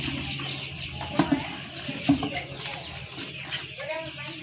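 Seventeen-day-old coloured broiler chickens cluck on a poultry farm amid a low background hum, with a few sharp thumps and scattered soft calls.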